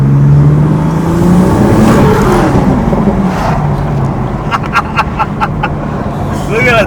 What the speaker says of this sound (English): So it's doing lap around, make sure there's no vibration, make sure everything's working smoothly.